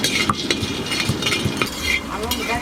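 Homemade lentil dumplings (bori) frying in a pan while being stirred, with scraping clinks of a utensil against the pan over a steady sizzle, close and continuous.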